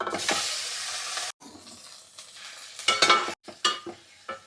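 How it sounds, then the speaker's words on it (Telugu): Boiled eggs fry in shallow oil with turmeric in a pan, a steady close sizzle broken by brief gaps and scraping stirs, with bursts of spattering crackle toward the end. "ఎగ్స్ని పైన కొంచెం లేయర్ ఫ్రై అవుతుంది కదా అప్పటి వరకు ఫ్రై చేసుకుందామండి"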